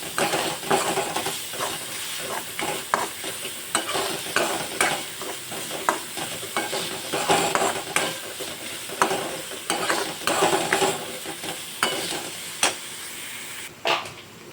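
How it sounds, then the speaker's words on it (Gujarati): Steady loud sizzling of onions frying in a pan until golden brown, with repeated scraping and stirring strokes throughout and no voices. "ડુંગળીને હું ગોલ્ડન બ્રાઉન સુધી એને કૂક કરી લઈશ."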